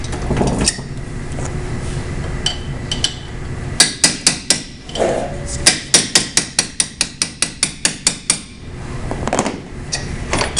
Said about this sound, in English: we just move the sheet metal to where we want to go, where we want the other cuts to be